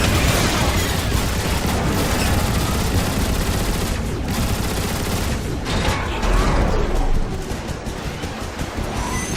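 Dense, continuous gunfire from Transformers: War for Cybertron, with rapid overlapping shots, mechanical clanks and booms in a loud, chaotic battle with no break.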